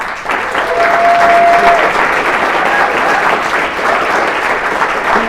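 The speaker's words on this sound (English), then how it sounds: "Can we give Gale another round of applause?" An audience at a Manhattan event honoring Borough President Gale Brewer gives a loud, sustained round of applause, the clapping holding strong for several seconds.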